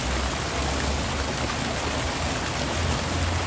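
Water pours steadily from a cast-iron fountain in a park, a continuous close rushing splash with no pauses.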